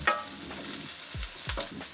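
Food frying in olive oil in a pan, a steady broadband sizzle holding through the whole stretch with a few brief low thumps partway through, close and fairly loud with no talking.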